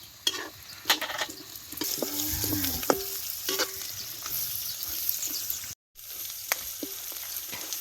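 Peanuts, coriander and turmeric sautéing in a pan for masala rice: a continuous close sizzle broken by scraping stirs and sharp spoon clinks against the metal, with a momentary dropout partway through.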